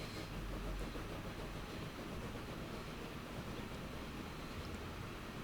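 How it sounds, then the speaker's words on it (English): A train rolls along in the game Transport Fever 2 as a continuous, moderately loud rumble and wash of noise, steady throughout with no talking, alongside wind- or surf-like ambience. "And there's another train on the horizon here, I can see it."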